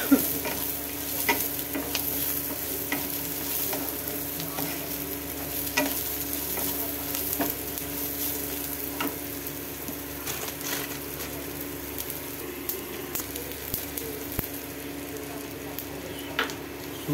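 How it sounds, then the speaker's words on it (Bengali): Raw semolina stirred and dry-fried for upma in a pan with curry leaves and roasted peanuts: a steady, close scraping of stirring over a soft continuous sizzle, with no one talking. "কাঁচা সুজি দিয়ে দেওয়া হলো, দিয়ে এটা ভাজা হবে।"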